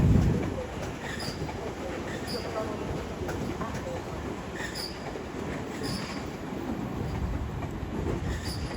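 A Class 390 electric train at London Euston on the West Coast Main Line rumbles and rolls steadily as it departs for Birmingham New Street, with faint wheel squeal and rail clicks, a station announcement voice over it.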